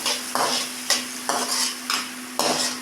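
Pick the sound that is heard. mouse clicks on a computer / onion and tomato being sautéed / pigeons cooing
onion and tomato being sautéed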